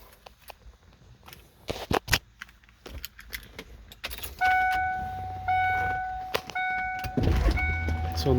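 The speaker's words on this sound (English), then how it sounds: "So the motor works perfectly for the convertible top. Comes right down." On a 1996 Mustang GT convertible, keys jangle and clicks sound before the electric top motor starts. The motor hums steadily at close range, with a few short pauses and whining beeps, as the top lowers.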